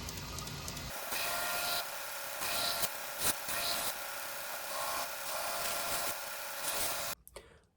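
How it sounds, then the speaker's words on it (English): Steady, loud abrasive grinding of a belt grinder working a knife blade bevel, sustained for several seconds with brief shifts in pressure, then cutting off near the end. "I'm just going to go ahead and run over the blade with the belt"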